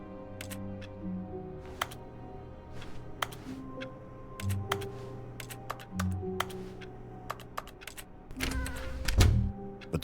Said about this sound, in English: Why am I clicking keyboard noises when I'm doing that?